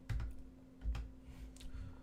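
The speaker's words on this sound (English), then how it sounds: "I'm trying to type week 1. See, I'm pressing Shift and W." Keys tapped on a computer keyboard while pressing Shift and W, a few soft clicks spread over two seconds against a steady electrical hum in a quiet room.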